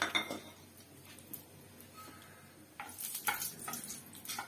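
Bay leaf and whole spices hitting hot oil in a pan for Kerala-style sukka chicken, a quiet sizzle with scattered clinks of a spoon against the pot, louder bursts of stirring near the end.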